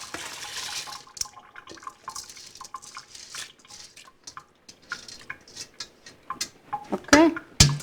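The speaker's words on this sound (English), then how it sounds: "And then I put in the water." Water poured into a cooking pot for homemade lentil soup in a home kitchen, an irregular run of splashes, drips and clinks of metal, growing louder and busier toward the end.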